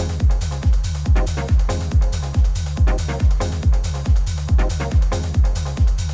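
Hardgroove techno loop playing from an Ableton project, with a thumping kick on every beat and busy percussion and hats layered over it, loud, driving and steady with no voices.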